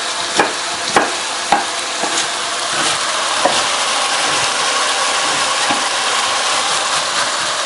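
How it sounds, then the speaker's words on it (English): Steady sizzling and crackling of onions cooking in a pot, a dense hiss with a few sharp clicks of stirring near the start, close and continuous. "We're just going to kind of sweat these onions out."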